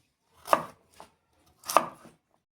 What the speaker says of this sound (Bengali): ছাড়িয়ে নিয়ে একটু ছোট ছোট পিস করে নিয়ে নিচ্ছি